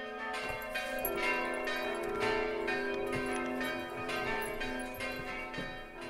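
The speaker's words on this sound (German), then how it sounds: "Und so haben die alten Kirchenglocken geklungen" Old church bells of St. Daniel parish church ringing steadily, a dense sustained peal of overlapping metallic tones at moderate distance with no talk.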